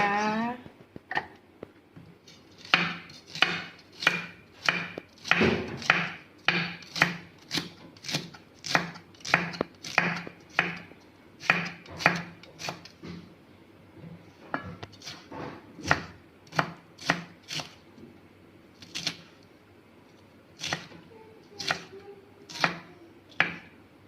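Green chili chopped on a board for an omelette, a long run of sharp knife taps, quick and fairly even, with short pauses between bursts, close and alone.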